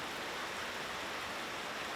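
Light drizzle falls in a soft, steady hiss, faint and even throughout, with no voices or other sounds.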